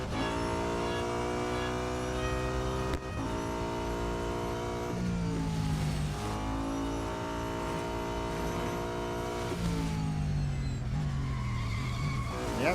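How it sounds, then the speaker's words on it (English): A BMW race car in Real Racing 3 laps Brands Hatch with a loud, continuous engine drone that climbs and drops through gear changes, with tyre squeal mixed in and no voices. "Let's give the BMW 2 more goes around Brands Hatch."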